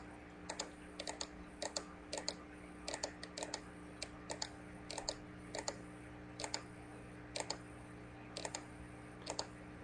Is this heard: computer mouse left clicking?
yes